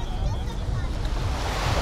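Ocean surf along a Cebu seashore washes in a steady, continuous broadband hiss and rumble, with wind brushing the microphone and no clear voices over it.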